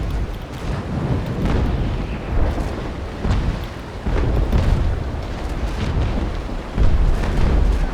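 Enemy ship cannon fire in a naval sailing battle game, Trincomalee against Bucentaure, with repeated deep booming blasts and rumbling explosions rolling continuously over a dense low background, no voices.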